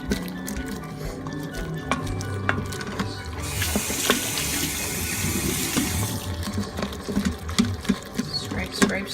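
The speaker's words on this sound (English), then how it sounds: "Scrape, scrape, scrape." Metal utensil scraping the bottom of an Instant Pot while deglazing pork tenderloin, a busy wet scratching and sizzling texture with small clicks and taps, close and steady throughout.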